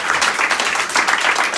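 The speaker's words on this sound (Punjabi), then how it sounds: "ਪਹਿਲਾਂ ਗੁਰਕਮਲ ਲਈ ਤਾੜੀਆਂ" An audience claps in a dense, steady burst of applause at a team celebration in Ludhiana, with no voices over it.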